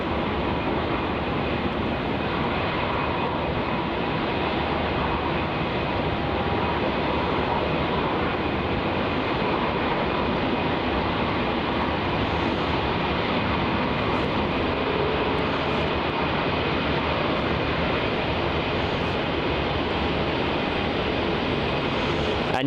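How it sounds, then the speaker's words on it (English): A Jetstar Airbus A321neo jet departing for Denpasar, heard as a steady, moderately distant broadband roar of engine noise that stays even and unbroken for over twenty seconds. "our next departure there is the Jetstar A321 Neo, yet another one for the stream. This is JQ31 heading off to Denpasar"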